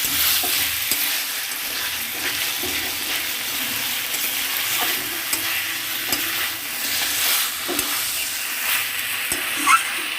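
Chicken and potatoes fry and are stirred in a pan with chui jhal spice and ground masala, Khulna style, giving a steady close sizzle with scraping stir strokes throughout and no talk.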